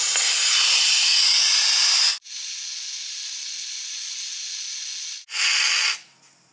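Loud, steady hiss of air escaping from a 35-inch tire on a 2021 Ford Bronco as the valve core is removed, two long continuous bursts with a short break and a final burst that tapers off.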